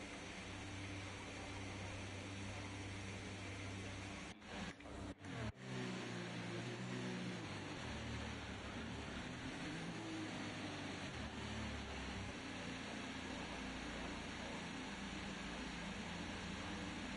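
Race car engines droning steadily through a formation lap in a racing video game, a continuous layered hum with a few brief sharp dropouts early on, no talk over it.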